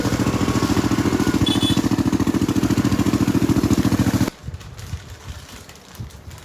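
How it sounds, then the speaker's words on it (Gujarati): A tractor engine chugs loudly and steadily at close range with a fast regular beat for about four seconds, then cuts off abruptly, leaving faint background noise. "ડ્રાઈવર વગર ટ્રેક્ટર જાય"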